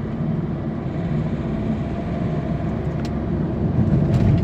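A car cruising in fourth gear at top speed for that gear, a steady loud rumble of engine and road noise heard from inside the cabin, unbroken throughout.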